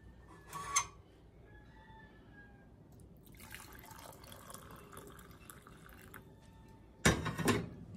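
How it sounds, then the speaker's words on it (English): Green lemongrass tea splashes and trickles as it is poured into a cup, with a short burst of pouring near the start, a softer steady trickle in the middle and a louder final pour at the end. "I'm going to pour some in a cup so you could see how the tea is in the cup."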